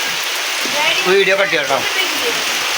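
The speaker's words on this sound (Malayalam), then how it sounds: "ഇവിടെ നമ്മൾ ഈ ഉമ്മറത്തിരിക്കുമ്പോഴേ മഴ ചാറുണ്ട്" Light rain drizzles outside a house's front veranda, a steady soft hiss of drops running through the whole moment while a person speaks briefly over it.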